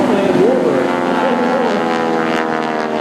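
A North American T-6 Texan, a two-seat 600-horsepower propeller warbird, drones loudly overhead at a seaside airshow with a rich buzzing engine tone and shifting pitch, while an announcer talks over it throughout.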